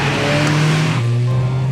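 A Škoda Octavia RS 230 engine drones loudly and steadily at close range, with a brief dip in pitch partway through, like a gear change, and no voices.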